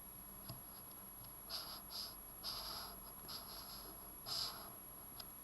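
A pen tracing over a drawn line to finish a letter F, giving a few faint, short scratchy strokes in quiet surroundings, clustered in brief bursts.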